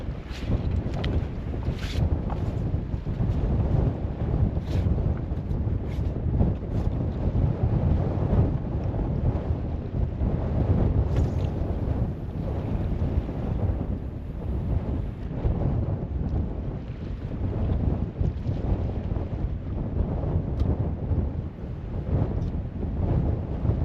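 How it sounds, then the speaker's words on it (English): Strong January wind on the River Humber buffets the microphone continuously, a loud low rumble with gusty surges throughout and no speech. "Again, it's windy"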